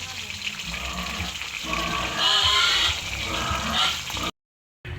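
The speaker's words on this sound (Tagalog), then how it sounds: "Maingay lang po yung mga baboy." Pigs grunt and squeal nearby amid running water and splashing, with a muffled voice underneath, ending in a brief silence.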